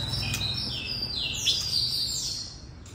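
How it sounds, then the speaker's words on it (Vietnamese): An oriental magpie-robin kept at home sings a clear, fluting song of rising and falling whistled phrases, close and steady over a low background hum. "Các bạn có thể là đang nghe thấy cái con chòe than bổi nó hót."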